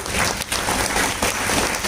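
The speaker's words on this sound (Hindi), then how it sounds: "ऐसे हवेलिया साहब के लिए जोरदार ताली बजाएंगे" Applause from the audience at a karate championship opening ceremony, a steady dense wash of clapping that fills the whole short stretch at moderate loudness.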